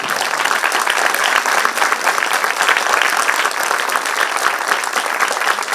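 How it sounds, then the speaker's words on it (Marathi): An audience at a Marathi stage competition final bursts into loud, sustained applause, dense clapping filling the whole stretch evenly. "जोरदार टाळ्या होऊ द्या"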